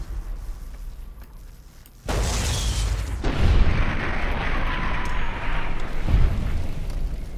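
A desert cannon fired in the video game Fallout New Vegas gives a sudden loud boom, followed by a sustained rumbling, crackling roar with a second heavy thump later.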